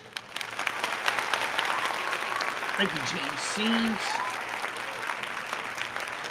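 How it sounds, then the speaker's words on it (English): A canned applause effect plays during a livestream, with dense, steady clapping throughout. Someone talks over it close to the mic. "I can put like the applause."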